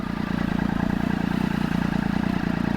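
A Triumph Daytona 675 motorcycle engine idles low and close, with a steady, even pulse of rapid rhythmic thumps for a few seconds and no speech.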